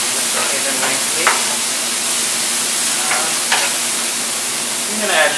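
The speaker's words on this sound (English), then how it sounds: "So we're gonna saute the green peas nicely." Green peas sauté in a hot pan for a potato-and-pea curry, giving off a continuous sizzle, broken every so often by short scraping stirs close by.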